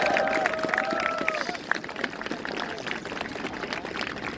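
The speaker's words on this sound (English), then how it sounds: "Can we give her another round of applause?" An outdoor crowd at a vigil and demonstration in New York's Union Square Park claps in scattered, uneven bursts, with voices and a few cheers rising over the applause.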